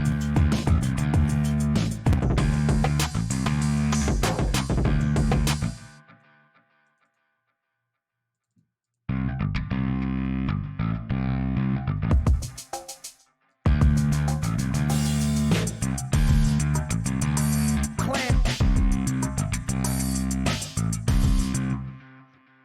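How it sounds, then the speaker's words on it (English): A gritty, distorted breakbeat drum loop plays loudly, cutting out to near silence for a few seconds before resuming, with one brief gap later. "breakbeat sounds like this, like particularly grungy ones"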